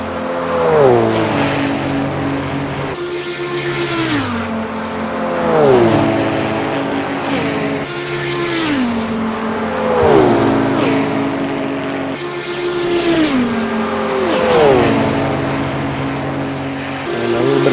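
Several race cars from a Le Mans 1985 round in a racing video game drone loudly together, their engine notes rising and falling in repeated waves of shifting pitch as they battle closely in a slipstream.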